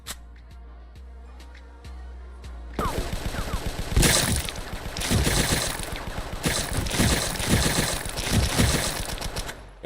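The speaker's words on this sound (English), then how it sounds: "I just shot Wade hella times" Video game gunfire emptying a full magazine into one target, a sparse set of clicks and taps giving way to a loud, rapid volley of shots that runs on to the end.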